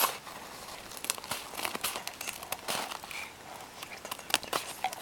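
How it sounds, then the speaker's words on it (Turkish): Scissors cut through paper towels for homemade hamster bedding, a quiet run of crisp crinkling snips and rustles at an irregular pace, close up and without speech. "havlu kağıtlarımızı kesiyoruz."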